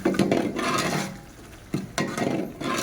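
Soya curry masala for a North Karnataka style curry frying in a pan with salt added, heard as close scraping stirs in a few bursts, with a quieter stretch of low sizzle between them.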